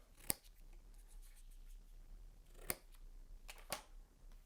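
Scissors snip paper for a pop-up card in three sharp, separate cuts, close and crisp against a quiet room with no talking.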